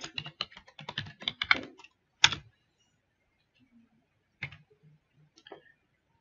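Computer keyboard typing while working in QuPath image-analysis software: a rapid, close burst of keystrokes for about two seconds, then a few separate key presses with quiet gaps between them, and no talking.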